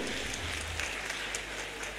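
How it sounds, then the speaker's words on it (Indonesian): Steady applause from a crowd, a dense wash of clapping that holds at an even level for about two seconds. "tepuk tangan lagi buat UMP ini"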